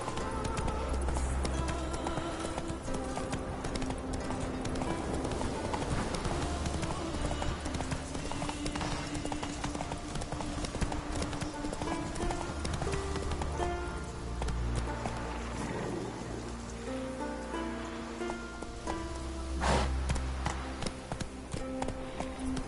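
A horse gallops steadily in The Witcher 3, its rapid clip-clop hoofbeats running continuously for over twenty seconds beneath layered game music and ambience.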